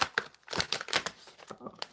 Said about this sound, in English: These packages are a pain in the behind. I can never unzip them or pull them apart.